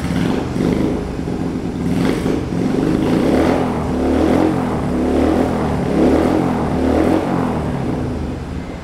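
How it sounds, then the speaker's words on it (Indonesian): A Yamaha Bison cafe racer motorcycle revs close by, its engine rising and falling in several throttle blips over a steady rumbling idle, with no talk over it. "Nah itu suara dari Yamaha Bison ini."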